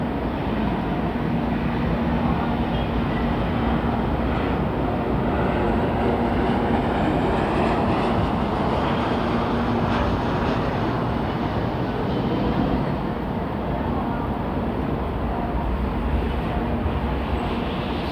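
A Tokaido Shinkansen N700A train at Shin-Osaka station gives a loud, steady roar with a constant hum through the platform, unchanging from start to end, with no voices.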